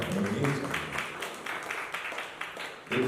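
Applause from an audience at a press conference, a dense wash of many hands that fades slightly midway and rises again, fairly distant and moderately loud, with faint voices at the start and end.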